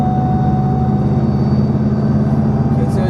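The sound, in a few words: straight-cut gearbox whine in car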